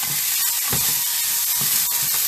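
Chicken and peapods stir-frying in a hot pan, a loud steady sizzle and hiss with soft scraping stirs breaking through now and then, close up and without any talk.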